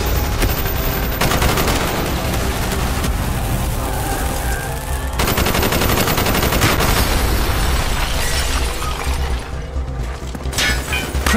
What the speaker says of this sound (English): Bowman, Carlos, lay down cover and fire.